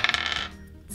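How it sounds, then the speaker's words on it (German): Dice rolled in a drinks-tasting challenge: a quick run of hard clattering clicks as they tumble and bounce, then settle within half a second, followed by quiet room tone. "jetzt würfel ich zum letzten Mal"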